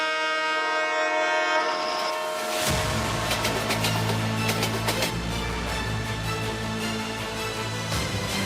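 A Mumbai suburban local train sounds a loud, sustained horn, then roars past close by with a heavy rumble and rattling wheels that continue to the end.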